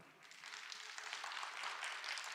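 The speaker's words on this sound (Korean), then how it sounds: "박수 부탁합니다" Audience applause greets writer Kim Do-yoon of the Kim Jakga TV channel as he is welcomed onto the stage at a Gyeongsangbuk-do job fair talk concert. The clapping is a steady, fairly faint wash that swells slightly and holds throughout.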